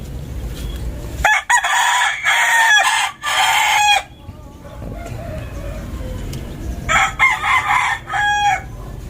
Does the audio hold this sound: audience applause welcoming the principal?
no